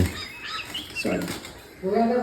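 A yellow-billed hornbill in a village gives a couple of harsh, nasal calls, with soft flapping in between, fairly close and clear outdoors.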